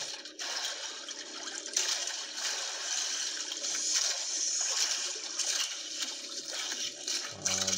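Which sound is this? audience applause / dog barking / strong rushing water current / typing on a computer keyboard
strong rushing water current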